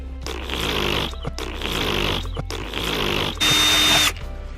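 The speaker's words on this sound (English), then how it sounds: "we're going to put it upside down so we can drill a hole" A power drill whirs in three sustained bursts separated by short pauses, then a final higher-pitched, louder burst as the bit bites through.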